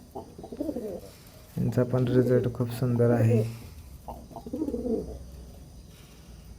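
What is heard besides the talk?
pigeons cooing in breeding loft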